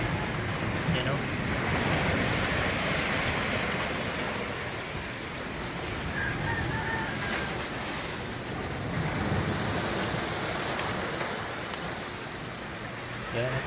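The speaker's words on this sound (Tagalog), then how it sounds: "Lagpas na sa bato ang alon." Loud, continuous surf roars and surges as ocean waves break on rocks close by, with wind buffeting the microphone and a voice faintly under the noise.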